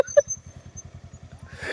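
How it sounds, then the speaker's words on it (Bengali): A motorbike engine runs with a steady low pulsing rhythm on a rural road near farmland, then fades and rises with a brief rush of noise at the end. "আমার বাইকটা নিয়ে কোথায় যাচ্ছে ওরা?"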